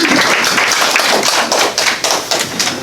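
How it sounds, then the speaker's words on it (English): An audience at a community gathering breaks into a loud, dense round of applause, sustained clapping that carries throughout with slight swells. "I would like for you to give them a round of applause."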